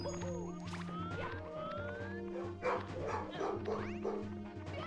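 Dogs bark and yip excitedly amid a noisy mix of game music, sweeping tones and crowd bustle during a competitive platformer match in a winners' final, the barks blending into busy, dense background sound.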